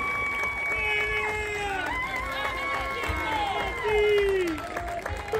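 Audience applause and cheering at a live folk music concert, a steady wash of clapping and crowd noise under an announcer's voice and what sounds like whistling or excited voices.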